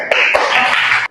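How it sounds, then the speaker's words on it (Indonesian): A class of students applauds group 1 during an Islamic religious education lesson in an Indonesian classroom: a dense, steady burst of clapping that lasts about a second, then stops abruptly. "tepuk tangan dulu untuk kelompok 1"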